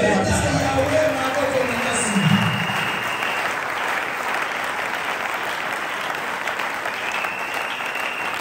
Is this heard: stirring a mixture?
no